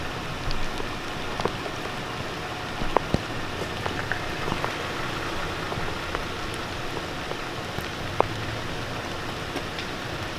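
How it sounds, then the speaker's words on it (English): Heavy rain drums steadily on the trail and surroundings during an off-road run of Toyota Tacomas in Tahuya, a dense continuous patter with scattered sharper drops and no voices. "It's dumping rain right now, and we are deep in the trail."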